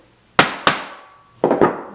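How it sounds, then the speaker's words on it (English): Four sharp metal hammer blows strike a hole punch through leather, two quick hits followed by a short gap and another close pair, each ringing briefly before dying away. "you can hammer again"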